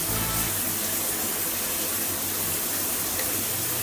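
A steady, loud rush of running water from a tap streams continuously with no pauses.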